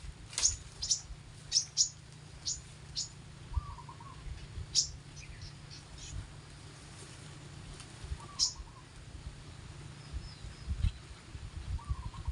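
Small birds at a bird-trapping spot chirp in short sharp bursts, several close tweets and a few softer distant calls scattered over a steady low background rumble.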